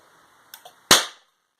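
A homemade flash cannon fires with two faint mechanical clicks followed by one sharp, loud pop that rings out briefly and decays into silence, close and alone without talking.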